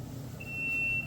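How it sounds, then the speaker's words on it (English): A continuity tester gives a single steady high-pitched electronic beep lasting about half a second, close and clear, while a vintage Sunbeam Toastermatic toaster's wiring is being checked. "Let's go continuity tester here, turn you on, beepity beep,"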